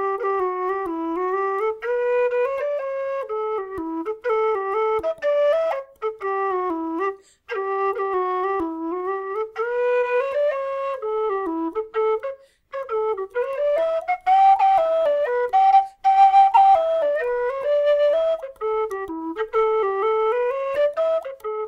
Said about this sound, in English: So let's give this a little play with the whistle head and see how it sounds.